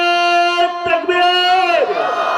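A crowd at an Islamic conference raises a loud, sustained slogan cry to welcome a speaker, one long, droning unison shout of about two seconds.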